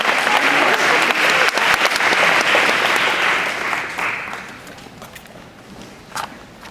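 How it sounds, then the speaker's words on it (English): Audience applause at a reproductive freedom talk, dense clapping that holds steady for several seconds before thinning out and fading to a few scattered claps. "You can clap."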